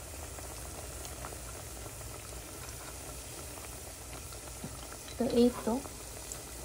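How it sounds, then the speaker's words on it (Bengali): Piyaju (lentil fritters) frying gently in oil over low heat, a soft steady bubbling sizzle throughout, with a brief louder clatter near the end and a short spoken remark. "এটা এখনো ভেজে যাচ্ছে, মাত্র দিলাম, অল্প আঁচে দিয়েছি"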